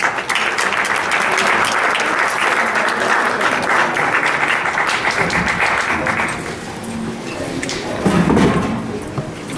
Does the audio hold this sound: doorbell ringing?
no